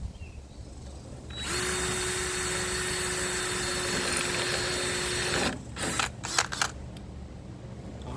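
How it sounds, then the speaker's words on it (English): A drill runs steadily for about four seconds, boring through a metal rod by way of pre-drilled holes on a Speedex restoration, then sputters off with a few short bursts and clunks. "I'm going to use the holes we pre-drilled as a guide to go through the rod."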